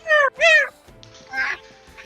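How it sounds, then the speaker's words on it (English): A pet cat meows twice in quick succession, loud and close, followed by a fainter, drawn-out mew after a short pause. "That sounded more like cat noises."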